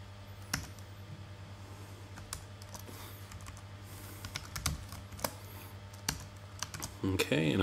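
Computer keyboard keys click in scattered, sparse taps, with tab and undo presses, close and fairly quiet over a low steady hum.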